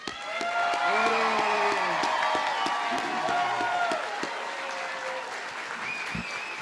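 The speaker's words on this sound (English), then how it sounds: "Please join me in giving our graduates a round of applause" Audience applause for graduates at a 2024 College of the Muskogee Nation graduation ceremony: sustained clapping with whoops and cheers, loudest early and then gradually easing off while voices call out over it.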